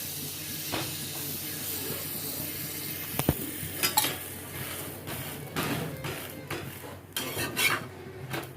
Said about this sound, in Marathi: आता याच्यामध्ये आपल्याला बटर टाकून घ्यायचे अशा प्रकारे आपल्याला असे मस्त हे दोन पाव छान असे गरम करून घ्यायचे